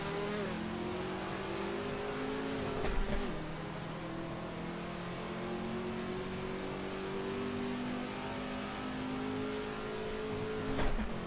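A Ford GT40 race car engine in a racing game on the 1967 Le Mans circuit drones steadily, with its pitch rising and falling and two brief louder surges.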